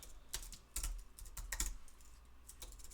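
Keys on a computer keyboard clack in short, irregular bursts of a few strokes each, close by in a quiet room, with no voices.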